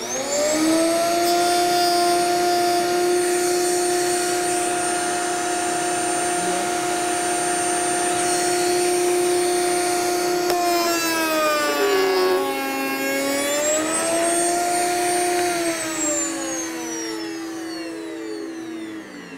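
A router cutting a Shaker raised panel in wood makes a loud, steady high-pitched whine that dips and bends in pitch as the bit bites into the stock, then recovers, close up with no talking.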